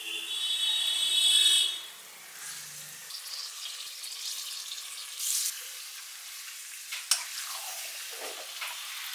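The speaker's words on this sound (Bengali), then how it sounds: "এবার মাটনটা অ্যাড করে দেওয়া হবে" Marinated mutton hits a hot pan for kosha, giving a brief loud sizzle that quickly settles into a soft, steady frying hiss with occasional small crackles and pops.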